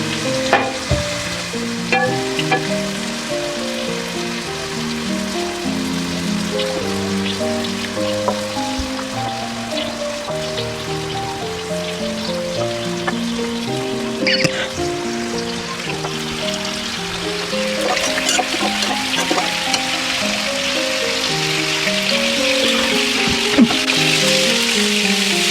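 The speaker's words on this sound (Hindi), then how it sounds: "हम कोफ्ते फ्राई करते हैं। थोड़ा सा कुकिंग ऑयल कोफ्ते फ्राई करने के लिए।" Beef koftas frying in cooking oil in a pan, a dense, continuous crackling sizzle that keeps up for the whole span, loud and close, with some faint tonal background sounds beneath and no talking.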